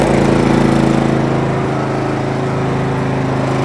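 A 3200-watt portable generator, started with a lawnmower-style recoil pull, runs with a steady, loud mechanical hum and continuous engine drone close by, without any talk.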